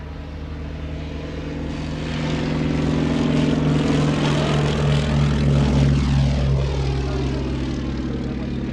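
Propeller aircraft at the Shuttleworth airshow drone loudly overhead, the engine note swelling to a peak and then shifting lower as the plane passes by.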